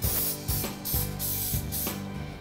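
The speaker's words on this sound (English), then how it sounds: "So now I'm gonna spray it with my non-stick butter spray." Several short hissing bursts from an aerosol can of non-stick butter spray onto a baking dish, spraying in quick pulses about every half second, close and fairly quiet.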